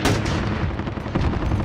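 Gunfire in the video game Call of Duty: Modern Warfare, loud booming shots in rapid succession over a dense rumble of battle, close and heavy without talk.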